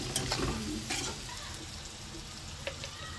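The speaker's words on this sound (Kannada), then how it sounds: "ಸ್ವಲ್ಪ ಫ್ರೈ ಮಾಡ್ಕೋಬೇಕು" Susla, a North Karnataka puffed rice dish, frying in a pan, with a constant sizzle and several quick scraping stirs near the start, close and even.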